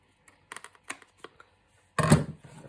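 Excess cardstock being trimmed from a card base with a paper trimmer, a few light clicks followed by one short, louder slicing rasp, close up with no voices.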